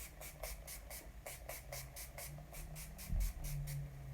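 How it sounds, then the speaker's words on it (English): Makeup setting spray mists onto a face in a run of about fifteen short, quick hissing pumps, close and regular, with a brief thump near the end and no talk. "So I like that this setting spray is like 3/4 of the price."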